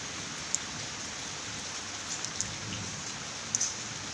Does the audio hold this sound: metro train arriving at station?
no